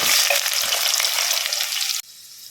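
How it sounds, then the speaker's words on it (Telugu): Chopped onions frying in hot oil with cumin seeds in a pan, a loud, steady close sizzle that cuts off abruptly near the end, leaving a quieter hiss. "ఆయిల్ వేడైందండి, ఇందులో ఉల్లిపాయలు వేసుకున్నాను."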